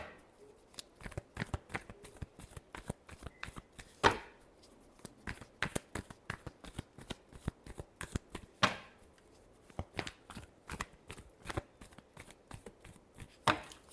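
A deck of tarot cards is shuffled close up in a quiet room, producing a rapid run of crisp, papery riffling snaps in irregular bursts with a few brief pauses.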